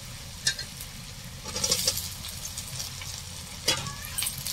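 Tomatoes go into a pan of frying capsicum and onion for a home-style chicken tadka, sparking a steady sizzle with stirring scrapes and a few sharper crackles, close and fairly quiet, with no talking.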